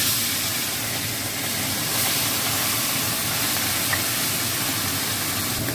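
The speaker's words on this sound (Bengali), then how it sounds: "আমি ভেজে নেবো।" Mola fish, coated in salt and turmeric, frying in hot mustard oil: a dense, even sizzle and crackle that holds steady throughout, close and moderately loud with no talk.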